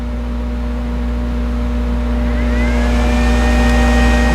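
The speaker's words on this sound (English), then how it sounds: "You hear that fan kick on." A battery charger's cooling fan starts up partway through, a steady whirring hum that rises over a constant background drone, with no one speaking.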